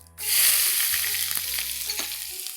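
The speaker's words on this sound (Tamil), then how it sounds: "இந்த வெங்காயம் போட்ட பிறகு இந்த எண்ணெயிலே நல்லா வதக்க ஆரம்பிங்க" Finely chopped onions hitting hot oil in a pan, a loud burst of sizzling that settles into a steady close fry with light stirring scrapes.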